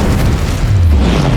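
Incendio fire spell cast in Hogwarts Legacy, a short, deep whooshing boom of flame that swells and rumbles low, loud and close, with no talk.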